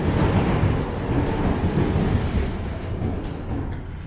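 A tram rumbles low and steady through an old, echoing underground metro station in Budapest, a continuous rolling drone that eases slightly as it goes.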